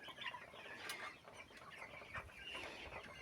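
Several young chickens cluck and chirp continuously nearby, a busy overlapping chorus of short calls with some rustling.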